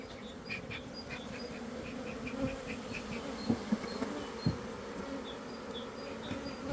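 Honeybees swarm at a hive in a dense, steady buzz, with a few louder insects passing close.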